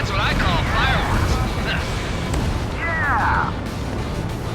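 Explosions in the aerial combat game Ace Combat 7, a dense sustained rumbling roar of blasts from ships, with speech-like radio chatter over it.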